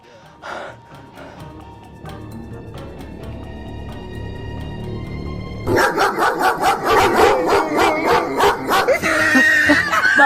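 A dog barks in a rapid series of loud, close yaps during a street prank in Turkey. The barks start suddenly after a quieter stretch of background hum and carry on to the end.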